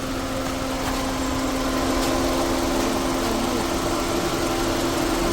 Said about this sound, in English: Compressor also working fine.